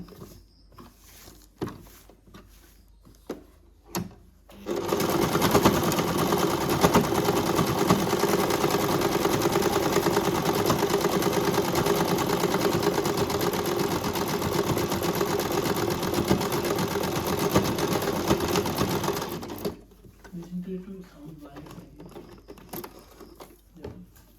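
A sewing machine double-stitches fabric onto the crocheted neckline of a baby frock, running steadily for about fifteen seconds, loud and close, with short quiet handling before and after.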